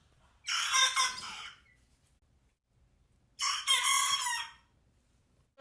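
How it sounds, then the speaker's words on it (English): A rooster crows twice in a row, each call loud, close and drawn out with a pause between them, against a quiet background with no talking. "my parents and my siblings have heard them crow"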